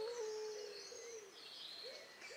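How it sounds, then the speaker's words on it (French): Small cartoon bird chirping in a high, thin warble with gliding whistled tones, clear and close, alone without talk. "Et Dido, le petit oiseau, réfléchit un instant puis répondit."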